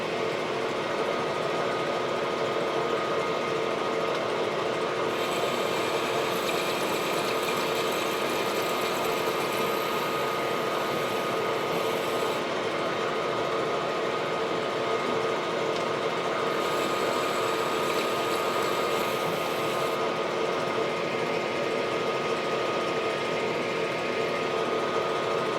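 A lathe bores a back plate hub at 494 rpm with a 0.013-inch per revolution feed, a steady droning hum with a faint high whine rising in two stretches, continuous and without talk.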